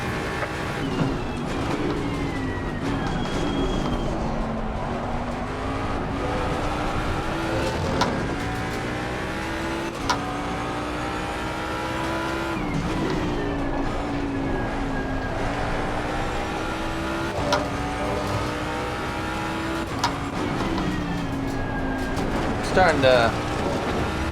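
Race car engines roar around Monza in a racing video game, with one close engine rising and falling in pitch through repeated gear shifts under a steady drone, and a voice talking over it.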